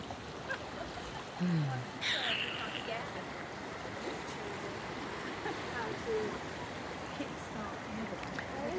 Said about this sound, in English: This is quite the full tide.